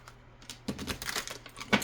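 Tarot cards shuffled by hand, a quick run of close, crisp riffling clicks and soft card slaps that start after a brief pause and continue without any talking.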